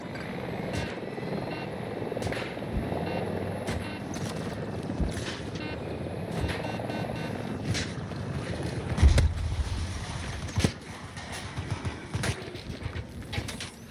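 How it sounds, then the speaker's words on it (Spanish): An attack helicopter in a video game, rendered as a continuous windy, rotor-like rumble with scattered sharp impacts and a brief thump near the end, no speech. "Helicóptero de ataque, qué pedo."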